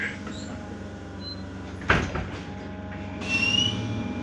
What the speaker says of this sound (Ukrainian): Осторожно, двери зачиняются.